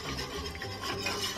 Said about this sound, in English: Keep whisking and picking up all those little pieces off of the bottom of your pan.